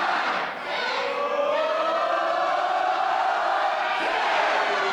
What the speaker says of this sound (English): Now he's pummeling him in the corner, and the crowd is loving it.